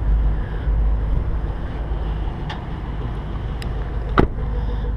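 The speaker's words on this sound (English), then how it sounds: "it sounds pretty wicked for a wife's car, just at idle" A Saab 9-7X Aero idles with a deep, steady low rumble, heard close and continuous with some wind buffeting, a couple of brief sharp clicks, and a short louder bump near the end.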